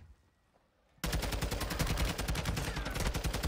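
Rapid automatic gunfire in the Call of Duty Warzone video game bursts in after a second of near-silence, then continues as a dense, loud stream of shots.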